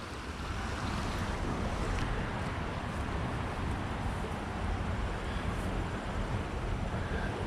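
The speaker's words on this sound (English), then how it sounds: "I'll be able to sleep well with the sound of the water flowing" Water rushes steadily through the Cape Cod Canal in a constant, loud wash. Wind buffets the microphone, and there are no voices.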